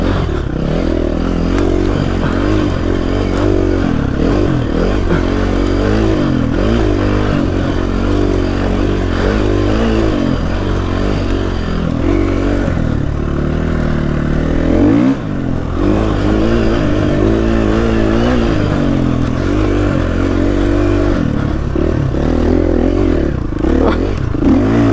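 A Husqvarna FE350 four-stroke motorcycle rides continuously, its engine loud and close with steady droning and shifting revs, engine braking and mechanical clatter throughout.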